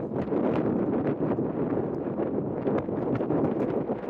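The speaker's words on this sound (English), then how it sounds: "it's quite breezy" Steady breezy wind at a beach in Teignmouth, roaring continuously across the microphone with gusty buffeting and no break throughout.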